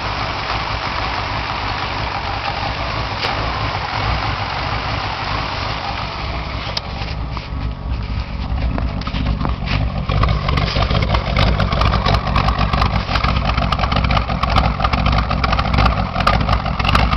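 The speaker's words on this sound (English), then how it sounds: "I just started up in the cold. Just got a rebuilt 302 out of a Mustang in it." A Ford Ranger pickup fitted with a rebuilt Mustang 302 V8 idles just after a cold start, a loud, steady, low rumbling idle close by that thickens and roughens slightly partway through, with no one speaking.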